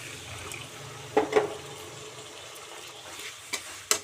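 Water poured into sizzling masala for a homestyle Odia chicken curry, with faint frying hiss, a couple of splashy pours and clinks, then a soft stir and a sharp utensil tap near the end, no talking.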